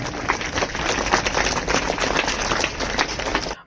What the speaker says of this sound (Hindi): नवाजें आपकी भरपूर तालियों में मिस्टर साकिब मुजफ्फर अली